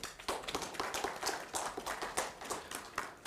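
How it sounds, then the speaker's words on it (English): Scattered audience applause at a live-streamed institute event, a few seconds of uneven, fairly faint clapping with no talk over it. "And let us have a round of applause for that."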